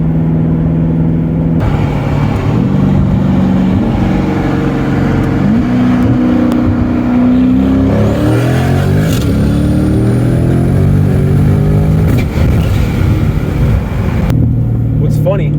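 A 1000hp twin-turbo C8 Corvette fitted with an MBRP exhaust revs hard and loud, its engine note sweeping up and down with crackling bursts, while people talk nearby throughout.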